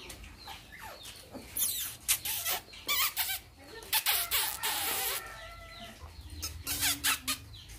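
Bantam chickens cluck intermittently in bursts, close by, over a noisy outdoor background with scattered clatter.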